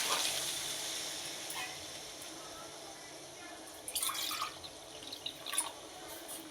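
Water poured into a simmering Bengali goat meat curry in a pot, a soft steady hiss followed by a few splashing pours, faint, with a quiet voice in the background.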